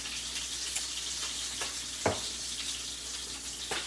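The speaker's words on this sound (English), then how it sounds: "trying very hard to stay away from that sizzling fish" Barramundi fillet frying in a hot pan, giving a steady broadband sizzle with a few brief louder pops and crackles, close and continuous with no talking.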